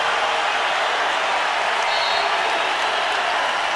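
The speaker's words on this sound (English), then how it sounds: "This crowd trying to get excited here." A packed crowd in a college basketball arena in Tucson gives off a steady, broad roar of cheering and noise, continuous and fairly even in level, with no distinct voices standing out.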